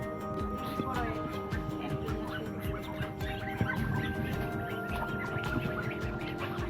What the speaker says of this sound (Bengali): এটা হাঁসের ফার্ম বন্ধুরা।